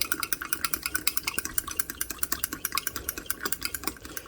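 Fork scraping and clicking steadily against a bowl while flour is stirred into a beef stroganoff mixture with onions, a quick regular rhythm of close, fairly loud taps with no talking.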